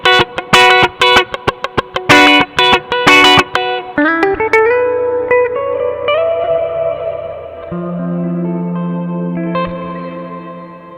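Electric guitar played through a BOSS RV-6 reverb pedal: sharp, rhythmic muted cutting strums at first, then ringing sustained chords and notes washing out into a long, spacious reverb tail.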